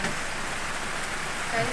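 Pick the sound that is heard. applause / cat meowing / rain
rain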